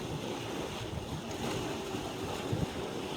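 Sea waves wash and break between rocks, heard as a steady, rough surge with wind buffeting the microphone and no talk.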